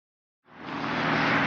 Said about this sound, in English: I apologize for the noise, I'm right by the highway finishing this.